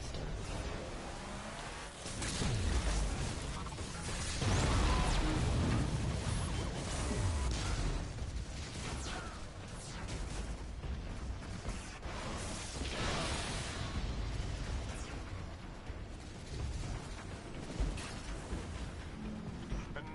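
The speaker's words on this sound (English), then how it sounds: "Let's shoot some stuff." Weapons fire in the Destiny video game, during one of its expansions: a dense, continuous barrage of bursts, whooshes and crashing impacts lasting the whole stretch, loud and busy with no pauses.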